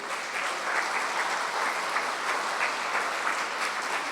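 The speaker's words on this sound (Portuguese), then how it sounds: "Quem pode dar um forte aplauso ao Senhor?" A church congregation gives a strong, sustained round of applause during a worship service, a dense, even wash of clapping at steady loudness throughout.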